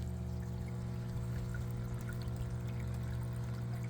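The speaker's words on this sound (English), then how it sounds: "the water pump just came back on from the timer" An aquaponics pump on a timer pours water into a large flood-and-drain growbed outdoors in south Texas. The pouring is steady and continuous, with a low hum underneath.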